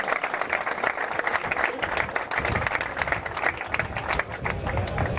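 Applause breaks out at an amateur football awards gala as a prize is presented, a crowd clapping steadily and close by for several seconds, with some murmured voices mixed in.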